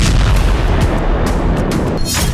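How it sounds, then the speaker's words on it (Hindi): Explosions aboard a cargo ship in the Red Sea attacked by Houthi fighters, heard as loud, continuous heavy booming and rumbling with sharp cracking bursts layered on top, no voices. "एक मालवाहक जहाज पर हूती के लड़ाके खड़े हैं। उसके बाद धमाके होते हैं।"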